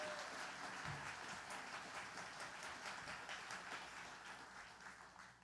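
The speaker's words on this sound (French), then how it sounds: "Une bonne main d'applaudissements." An audience at a cabaret show applauds for a band of musicians, with a dense, even wash of clapping that sounds somewhat distant and slowly tapers off.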